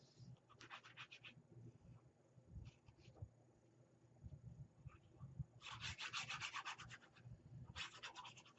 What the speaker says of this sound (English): burnish it in and wipe off any excess glue